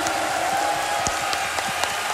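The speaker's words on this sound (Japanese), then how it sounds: "皆さん拍手お願いします。" At a concert in Yokohama, the audience gives a sustained wash of clapping that fills the hall, steady and fairly loud, with a few sharper individual claps.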